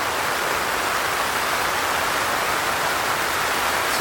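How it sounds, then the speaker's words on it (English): Dense, steady hiss of heavy rain pouring down on a tent during a severe cyclonic storm at night, loud and even throughout, with no voices. "the rain's really picked up"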